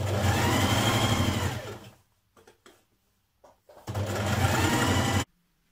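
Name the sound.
sewing machine stitching a small double hem on a dress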